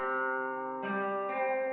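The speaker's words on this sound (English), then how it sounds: "Again, we're using the Evolution Modern Nylon from Contact," Sampled nylon-string guitar notes from the Evolution Modern Nylon library ring out in a beat, a sustained tonal chord shifting twice to new notes, smooth and steady with no voices.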